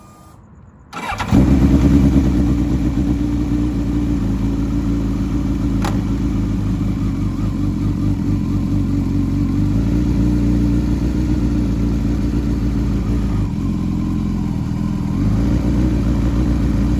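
A Suzuki GSX-S1000 motorcycle engine fires up after a brief quiet moment, then holds a steady, loud idle with its rear wheel turning, the hum dipping slightly near the end; nobody talks.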